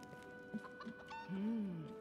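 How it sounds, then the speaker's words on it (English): Chicken clucking in a fantasy role-playing game, a few short clucks followed by a longer rising-falling squawk, moderately close, with a steady musical hum and soft game ambience underneath. "Come on, chicken. Follow me."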